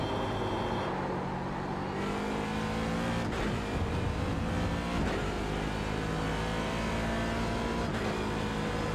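A race car laps Suzuka in the iRacing game, a loud continuous engine roar with shifting pitch as it accelerates and brakes, with brief tire-squeal moments and no talk.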